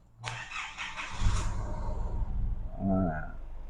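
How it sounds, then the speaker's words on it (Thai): A 2015 Isuzu MU-X 2.5 automatic is started by push button: a brief starter crank catches into an engine that settles to a steady idle, close by, following a short spoken remark. "ช่วงเวลาสตาร์ทก็อย่าลืมกดเอ่อปุ่มสตาร์ทแล้วก็ เหยียบเบรกด้วยนะครับ เวลาสตาร์ทรถ"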